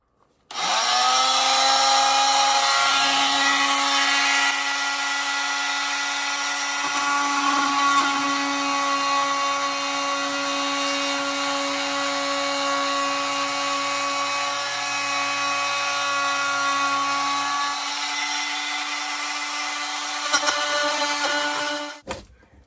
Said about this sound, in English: I'm gonna have to just take a little trimmer and cut all of this out really nice and close to that cabinet